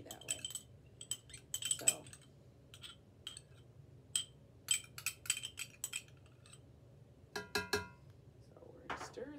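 A spoon stirs a tomato and mozzarella filling for keto stuffed peppers, giving quiet scattered clinks and scrapes against the dish, with brief talk in the room.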